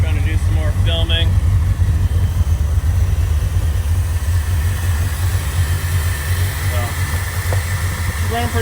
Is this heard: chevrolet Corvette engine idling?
yes